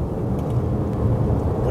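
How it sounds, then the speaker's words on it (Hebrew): Low, steady engine drone of a Nissan Qashqai e-Power under hard acceleration, a constant rumble heard from inside the cabin with no talking. "ותחת האצה חזקה אתם תשמעו את המנוע ככה פועל ברקע."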